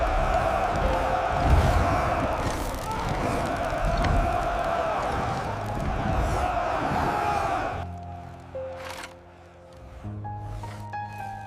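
A vast Roman arena crowd of 50,000 roars continuously and loudly for about eight seconds, then fades, leaving quieter sustained tones and a few faint rustling sounds.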